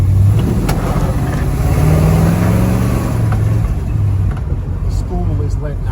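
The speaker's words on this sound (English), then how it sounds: "we're getting a test drive on this 70 Chevelle" 1970 Chevelle 454 big block on a test drive, a deep loud engine rumble with revving swells under talk from inside the car.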